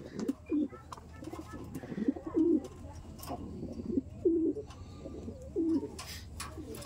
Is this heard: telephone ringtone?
no